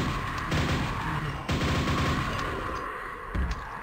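The nail gun in the video game Quake fires in rapid metallic bursts, a few short volleys with brief pauses between them, loud and alone with no talking.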